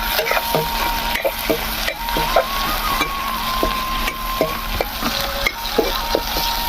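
Onions fry in a pan for a rohu fish curry, a continuous close sizzle broken by repeated scraping and clinking stir strokes at a steady rhythm, with no talk.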